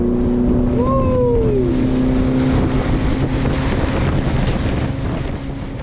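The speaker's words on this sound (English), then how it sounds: "the humming boat engine was ready to sprint" A speedboat on a lake in Munnar gives a loud, steady engine hum mixed with heavy wind buffeting the microphone, holding throughout with a brief rising whine early on.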